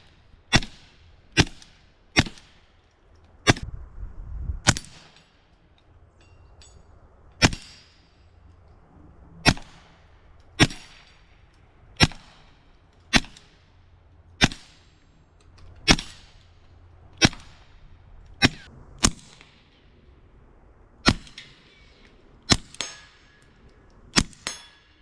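Ruger Mark IV pistol with a 2x scope fired outdoors, roughly eighteen sharp, loud cracking shots at irregular intervals of one to two seconds, each ringing briefly, with quiet background between them and no talk.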